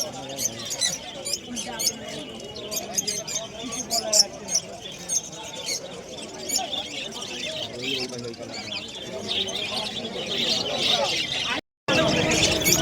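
Caged birds chirping and tweeting at a busy village market in Birnagar, a steady chatter of small calls layered over crowd noise and nearby talk.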